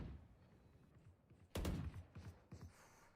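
Gunfire in an esports match of a tactical shooter video game, with a sudden close burst of rapid shots followed by scattered quieter shots and thumps against a low background rumble.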